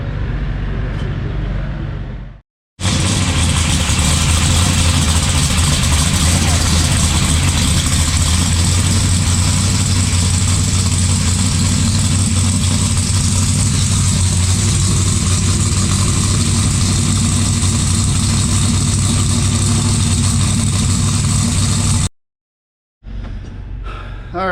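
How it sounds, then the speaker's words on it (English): A drag car's engine warms up and idles with a loud, steady, throaty drone that runs for about twenty seconds. The sound starts and stops abruptly at each end. "we warmed up the car again"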